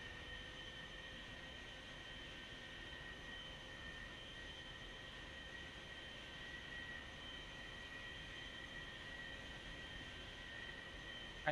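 An aircraft engine in a flight simulator game hums at low volume with a steady drone and thin whining tones that hold level throughout, with no talking.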